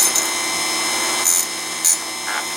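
An electric chainsaw sharpener grinds a saw chain in short bursts, a steady close-up whine broken by a few brief, bright rasping contacts of the wheel against the teeth.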